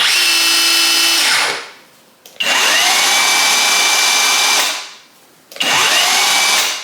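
A Ryobi SDS rotary drill runs at max speed in three long bursts, a loud close whine that spins up quickly, holds steady and winds down between runs, with short pauses in between.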